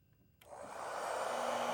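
A vacuum-based hair dryer switches on after a brief silence and settles into a steady, loud whooshing airflow with a faint motor hum underneath, running alone with no talk.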